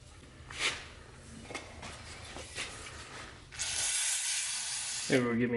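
Diesel injector nozzles on a bench tester for a 12-valve engine, with a few clicks from levering the tester, then a sharp, sustained hissing spray burst near the end, close up.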